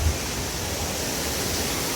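Water cascades steadily at a theme and water park, a dense, even rushing wash with no breaks, close and fairly loud.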